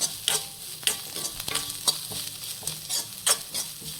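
Sliced onion fries in a pan with coriander and mint leaves being stirred in, a continuous sizzle broken by scraping strokes and soft clatter of the spatula, close and steady.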